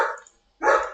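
A dog barks indoors, two loud, harsh barks separated by a brief pause, fairly close and with no talking over them.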